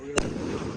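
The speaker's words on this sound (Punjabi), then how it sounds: "ਬੜੇ ਪਟਾਕੇ ਚੱਲਦੇ ਆ" A single sharp firecracker bang bursts out near the start during Bandi Chhor Divas celebrations, followed by a noisy outdoor background with faint voices.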